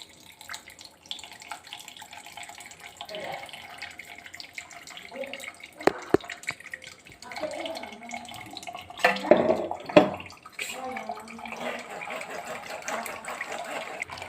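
Fresh carrot juice is strained through a coarse-meshed sieve, giving an uneven trickle and splash of liquid with brief clatters of the sieve and a louder pouring burst partway through.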